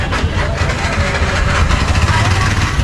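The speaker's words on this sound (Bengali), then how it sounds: "আর এগুলো হচ্ছে মালবাহী ট্রলার।" Engines of cargo trawlers on the Buriganga River in Dhaka throb with a steady low rumble on a rainy day, close and loud, mixed with broadband outdoor noise.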